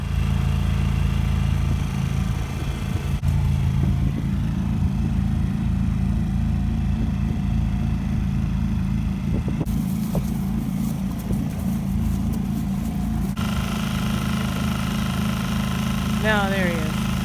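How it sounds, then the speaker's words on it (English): A sailboat's engine idles steadily with a low, continuous rumble and vibration, its tone shifting slightly partway through, while people talk nearby over it. "The engine is on."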